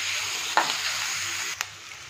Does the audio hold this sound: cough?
no